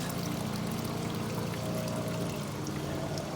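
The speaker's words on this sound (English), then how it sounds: "this is the water runoff that we get" Runoff water flowing in the gap between a retaining wall and a driveway after sprinkling, a steady close pouring and trickling stream that runs continuously with no voices.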